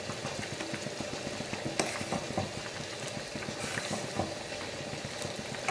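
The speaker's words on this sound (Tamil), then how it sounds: "இந்த மாதிரி நல்ல கொதி வரணும் பாருங்க நல்ல மளமளன்னு கொதிக்குது இல்லையா" A pot of Chettinad onion kosu boiling vigorously, a steady dense bubbling and hissing with occasional pops, continuous throughout and close by.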